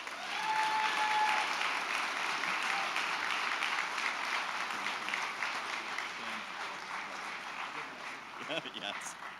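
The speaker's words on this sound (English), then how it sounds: "So please give a round of applause to Spencer Avery, Shane Franz, and Tim Worre" An audience applauding at a school board meeting, a sustained steady round of clapping that slowly fades, followed by a brief voice near the end.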